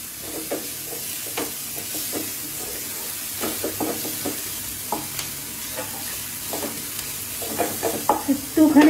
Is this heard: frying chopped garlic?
yes